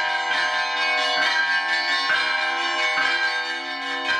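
Church bells ring in the tower of a baroque church in Barão de Cocais, bright metallic strikes repeating in a loose rhythm with long overlapping resonance, clear and moderately loud with no voices.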